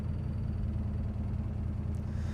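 A 1966 Ford Mustang engine idles smoothly and steadily, a low, even rumble close by with no voices over it.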